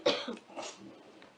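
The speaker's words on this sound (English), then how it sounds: "let me cough" A person gives a single sharp cough followed by a softer trailing cough and throat sound, close and fairly quiet indoors.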